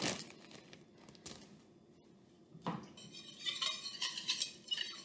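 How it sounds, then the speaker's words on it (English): Olive oil steak marinade whisked in a bowl for rolled flank steak, sharp clinks and scrapes at first giving way to a quick rhythmic rattling whisk near the end. "I'll whisk my marinade one more time just to pull in all of that olive oil."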